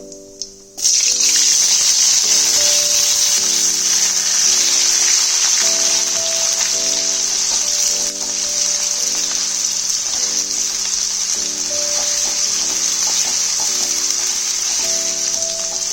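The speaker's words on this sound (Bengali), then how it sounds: "আলুগুলো যে ডুম কেটে রেখেছিলাম ওগুলো আমি এর মধ্যে দিয়ে ফ্রাই করে নেব" Diced potatoes drop into hot oil with cumin seeds and burst into a loud, dense sizzle that carries on steadily, up close, beneath light background music.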